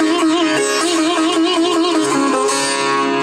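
A sitar plays a gamak, its sustained melody oscillating in fast ornamental waves from Re toward Ga, bright and close with rich ringing overtones and no talking.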